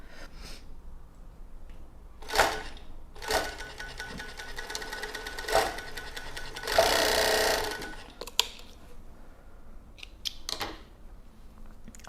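Sewing machine stitching 16 mm bias binding onto a child's top, running in several short bursts and one longer steady run, close and clear with no talk.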